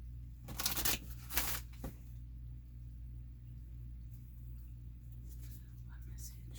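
Tarot cards being shuffled by hand, with two quick riffling bursts near the start and a softer rustle near the end, close and fairly quiet over a low steady room rumble.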